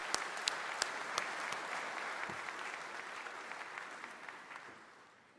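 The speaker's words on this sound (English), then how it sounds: "Let's give him a round of applause." Applause from the audience at a Disabled American Veterans (DAV) business session in 2016, a continuous crowd of clapping with a few sharper individual claps standing out, gradually fading at the close.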